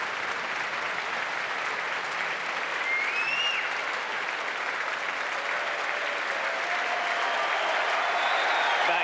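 Sustained, dense applause from a large concert-hall audience at the Last Night of the Proms 1997, steady and loud throughout with a few faint whistles rising above the clapping.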